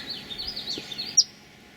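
Small birds, young ones with bright white breasts, chirp in a garden in a series of thin, high tweets, with a sharper louder note near the end over quiet background.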